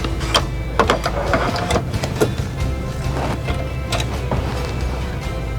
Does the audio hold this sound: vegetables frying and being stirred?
no